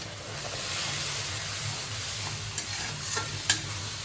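Ginger, garlic, onion and green chilli paste fries in a pan as water goes in, giving a steady close sizzle and hiss with a few sharp spatters near the end and no talking.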